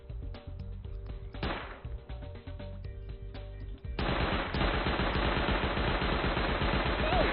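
Rapid turret gunfire in the online game FFXI Horizon, dense bursts of machine-gun shots crackling close and loud, growing into a continuous heavy volley in the latter half.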